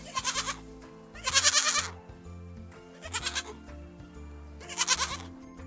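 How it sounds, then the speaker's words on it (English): A goat bleats four times in quavering, wavering calls spaced a second or two apart, loud and close with no other sounds. "The goat's sound is bleat."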